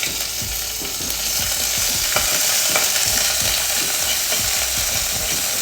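Ginger and green chilli paste fries in a pan with a close, steady sizzle, and quick repeated scraping strokes of a spoon stirring through it.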